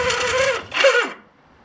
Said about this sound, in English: Starter motor's not keen, is it?